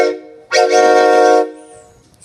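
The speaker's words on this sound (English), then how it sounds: "And of course, I had to blow the horn." At a railroad museum in Wilmington, a train horn is blown once. The loud, close, harmonic blast holds for about a second after a brief softer lead-in, then stops, leaving a quiet tail.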